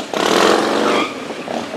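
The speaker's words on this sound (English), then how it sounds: "motorcycles here in the parking lot" Motorcycle engines rev loudly in a parking lot outside a concert venue, a close, sustained roar that swells and then eases back.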